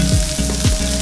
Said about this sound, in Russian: И все это вместе с луком обжариваем на сковороде.